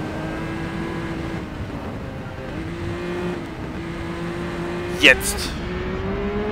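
A race car in Driver San Francisco roars under full throttle, engine pitch climbing steadily through gears with a brief sharp burst near the end, while someone speaks German over it.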